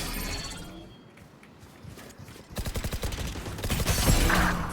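Rapid bursts of video game gunfire crackle loudly in the second half after a quieter stretch, sharp repeated shots in quick succession with a brief shatter-like crack early on.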